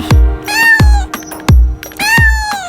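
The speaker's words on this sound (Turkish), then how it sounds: "Ne güzel de miyavlıyor" A cat meows loudly and close by, giving four drawn-out calls over a few seconds, each beginning with a deep thump-like onset.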